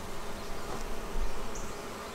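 Honeybees buzz in a dense, steady drone during a beehive inspection, with the swarm sounding close and fairly loud, no voices present.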